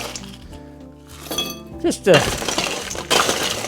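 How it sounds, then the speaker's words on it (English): Fresh ice cubes dropped into a chilled hurricane-style glass, clinking and rattling against the glass in a few loud close bursts while someone speaks briefly. "We're gonna fill it full of some fresh ice."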